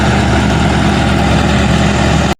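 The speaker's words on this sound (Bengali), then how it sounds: "বালু উত্তোলন করার মেশিন কিছুক্ষণ পরপরই ছাড়া হয়" A sand dredging machine's engine runs by a river, a loud, steady low drone that holds constant without a break before cutting off abruptly at the end.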